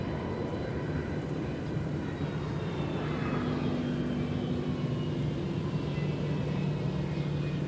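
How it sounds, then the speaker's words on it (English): An Airbus A319 airliner departs Minneapolis–St. Paul Airport with a steady, broad jet-engine roar and a slowly falling whine, holding constant and moderately near for the whole stretch with no voices. "This Airbus A319 off to Houston Intercontinental Airport, delivered to Northwest Airlines May 2003"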